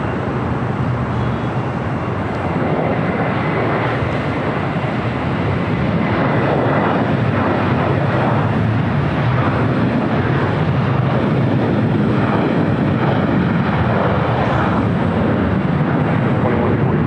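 A Boeing Dreamliner airliner taking off at LAX, its loud, steady broadband jet roar filling the air continuously from start to finish without any voices.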